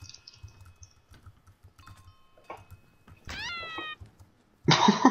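A cat meows in a video game, a single rising-falling meow in the middle of sparse clicks and keyboard tapping, followed by a burst of noisy game sound.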